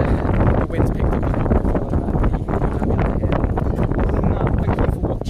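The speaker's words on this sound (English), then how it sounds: "The wind's picked up." Strong wind blows across a beach by a seaside funfair, a dense continuous roar buffeting the microphone at close range with no pause.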